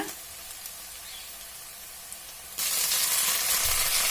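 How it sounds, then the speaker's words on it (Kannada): Fenugreek leaves tipped into onions browned in hot oil give a steady frying sizzle that jumps sharply louder partway through and stays bright and hissing, with no talking. "ಇವಾಗ ಮೆಂತ್ಯ ಸೊಪ್ಪು ಸೇರಿಸ್ಕೊಂಡ್ಬಿಡೋಣ."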